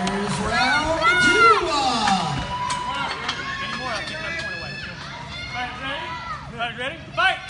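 A crowd at a kickboxing debut cheers and shouts for a fighter between rounds, a steady roar of voices with whoops and yells rising and falling, loud and close, with an announcer's voice over it.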